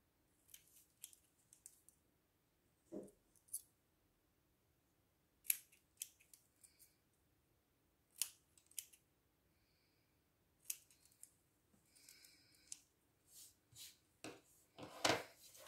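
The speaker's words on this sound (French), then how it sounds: "J'essaie de couper droit, mais c'est pas facile" Scissors snip through paper while a card is made for scrapbooking, a series of short crisp cuts in small clusters separated by quiet pauses, close but faint, with no talking.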